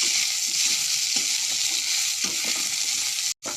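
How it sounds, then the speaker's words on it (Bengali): Soybean chunks and potatoes frying together in a wok, a constant close hiss of oil with soft rhythmic stirring scrapes, ending in a sudden brief break. "সয়াবিনগুলো আলুর সাথে ভেজে নেব।"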